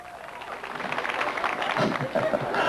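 Audience applause from a crowd at a live hypnosis stage show, dense clapping that builds steadily louder over a few seconds with no speech over it.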